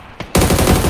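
Automatic gunfire in the battle-royale game PUBG during a tournament match: a brief click, then a loud sustained burst of rapid shots, close and dominant.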